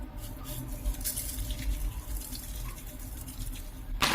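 Water runs into a pot of corn on the cob, set up for boiling, a steady splashing gush from a tap or jug that keeps going the whole time and gets louder and brighter near the end.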